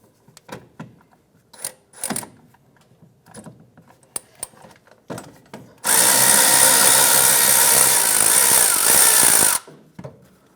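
Power tool removing the 10mm bolt of an ABS wire bracket on a 2008-2013 Nissan Rogue rear suspension, heard as a steady, loud, close whirring burst of about four seconds after scattered light clicks and handling knocks.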